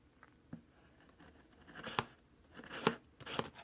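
A blade slicing through packing tape on a cardboard shipping box: quiet close scraping, with a few sharp ripping strokes that grow louder toward the end.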